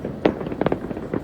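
Firecrackers and fireworks set off across a city at New Year, sharp scattered bangs and pops, a few louder cracks among fainter ones, heard at some distance.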